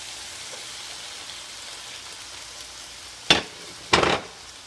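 Cold vegetables hitting a hot pan on high heat, a soft steady sizzle that erupts into two loud hissing bursts as more food goes in.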